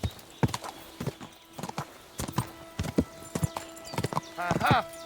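Horse in the medieval video game Kingdom Come: Deliverance 2 trots with irregular clip-clop hoof strikes, close and clear, ending in a loud whinny; someone speaks over the hooves.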